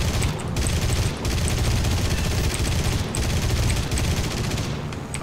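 Yak fighter plane cannons firing in War Thunder air combat: loud, close, sustained rapid bursts blended with a heavy engine roar, briefly breaking off twice before resuming, with no talking.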